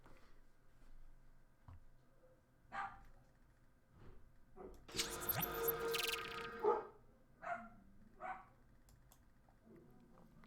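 A dog barks at the mailman indoors, with scattered single barks and whimpers, then a louder burst of barking in the middle, all somewhat distant against a quiet room.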